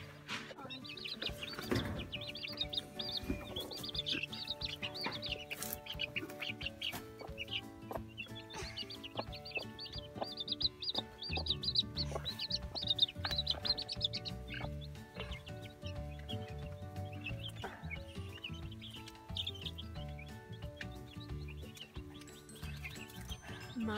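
A mother hen clucks softly in a brooder while many chicks peep and chirp almost constantly around her, close and busy, with occasional handling noises and faint voices.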